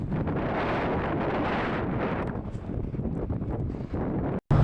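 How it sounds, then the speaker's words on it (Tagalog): Strong wind buffets the microphone with a loud, continuous roaring rush that gusts and dips briefly near the end. "Lakas kasi ng hangin dito."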